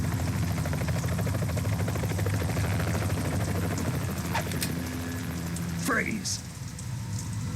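Rotor thump of a helicopter in the video game Metal Gear Solid 2, a steady rhythmic chopping close by over rain, with a short rising tone near the end.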